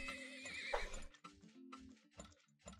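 Horses in the video game Turmoil neigh in a loud, close whinny, followed by short snorts and clip-clop bursts, all within a few seconds and with no talking.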